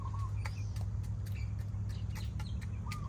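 Chickens clucking in a home garden, several short soft clucks and calls scattered at mid distance over a constant low outdoor hum.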